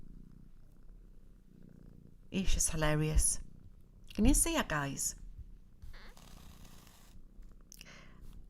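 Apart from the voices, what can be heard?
cat purring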